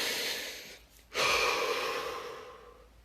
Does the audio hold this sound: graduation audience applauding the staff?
no